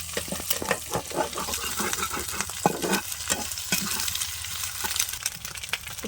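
Eggs sizzle steadily in a hot pan while a utensil scrapes and stirs with frequent short clicks, close and fairly loud, with no voices.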